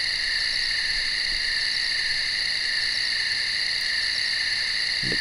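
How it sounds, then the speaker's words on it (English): Dense, steady night insect chorus of crickets chirping continuously at moderate volume, a constant high shrill trill filling the whole stretch with no talk. "The crickets, man, oh my god, they just came out a few minutes ago, and you can hear them like crazy."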